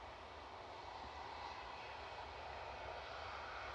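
Logan Air airliner departing Edinburgh Airport, heard as a steady, broad engine roar holding at a constant moderate level throughout, with no voices.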